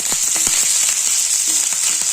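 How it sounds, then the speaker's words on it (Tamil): Mustard seeds crackling and popping in hot oil for a tempering, quick irregular pops over a constant bright sizzle, close up with no voices. "இப்போ நான் கொஞ்சமா தாளிக்கிறதுக்காக கடுகு சேர்த்திருக்கிறேன்."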